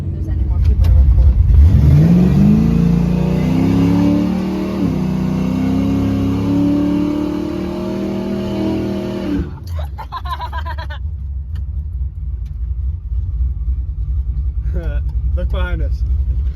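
A 1979 Chevrolet Camaro Z/28 V8 revs hard and accelerates, its loud rising engine roar holding for several seconds before dropping off into a steady road rumble, with people talking faintly near the end.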